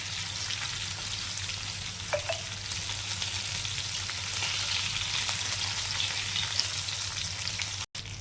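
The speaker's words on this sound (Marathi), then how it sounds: "बघा लो टू मीडियम गॅसवरती आपल्याला ही अशी मच्छी फ्राय करून घ्यायची." Fish fries in a pan over a low-to-medium gas flame, giving a steady, even sizzle and crackle with occasional small pops and no talking.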